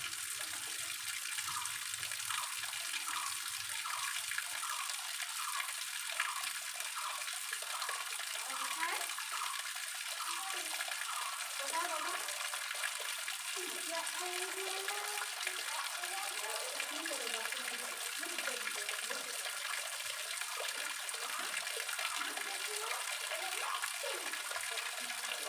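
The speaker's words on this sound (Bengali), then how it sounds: "দেখো এখন এটার মধ্যে জলটা পড়বে" Water pours steadily into a homemade swimming pool at home, a continuous close gush and splash that runs throughout, with faint speech drifting in at times.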